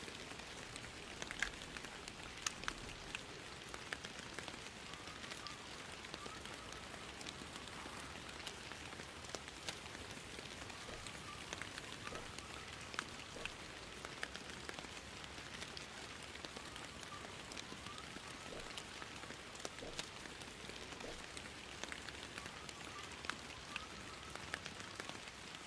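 Rain falling in the fishing game Fishing Planet, a soft continuous patter of many small drops on a surface, even and fairly quiet throughout, with no voices.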